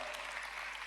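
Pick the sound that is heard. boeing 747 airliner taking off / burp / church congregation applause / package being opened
church congregation applause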